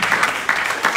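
A church congregation at a worship service cheers and claps in a brief loud burst of acclaim, with uneven surges of voices and hands.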